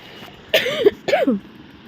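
Two harsh coughs from a sick person, each a short burst with a rasping, throaty tail, close and loud, with near silence between and after them.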